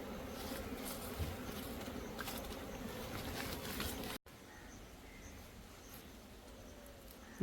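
A swarm of honey bees buzzes around a village honey harvest, making a dense, continuous droning hum at moderate distance that breaks off briefly once, with no speech.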